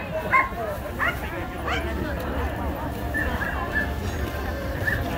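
Seasoned sled dogs at a skijoring and mushing event at a winter snow festival yip, whimper and bark in short excited bursts, with an announcer talking over them and crowd noise in the background.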